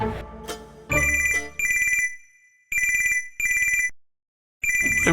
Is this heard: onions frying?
no